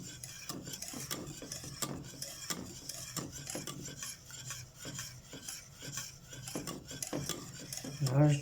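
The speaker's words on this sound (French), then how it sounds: "Vous sentirez quand vous tournez qu'elle s'épaissit la sauce." A spoon stirs thickening béchamel sauce in a pan, giving soft, quiet scraping and tapping strokes in an uneven rhythm, close by with no voices.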